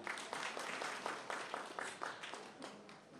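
An audience applauds at a political rally, with steady, rapid clapping from a crowd that sounds fairly distant and faint, continuing evenly throughout.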